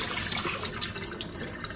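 Plain water from black-and-white film development poured down a sink drain, a steady close splashing trickle with no talk.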